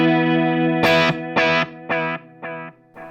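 A Telecaster electric guitar through an analog effect pedal rings out a sustained distorted chord, then several strummed chords decaying one after another, loud and close with no voices.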